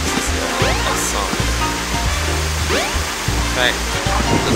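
Continuous rushing water from a waterfall in the video game Sonic Adventure DX, a steady broadband roar with faint game effects over it, and a voice talking on top.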